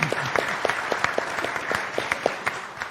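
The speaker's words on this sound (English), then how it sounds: "Round of applause." A conference audience at a food and nutrition event gives a round of applause, dense clapping with a few sharper individual claps standing out, loud and close, with no speech.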